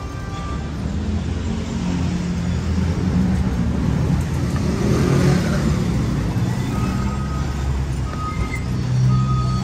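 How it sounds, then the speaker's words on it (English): Motorcycles ride through a street or alley in Mexico, giving a steady, fairly loud engine rumble and road noise that swells slightly mid-way and runs continuously without a break. "Got the motorcycles out, the bike crew"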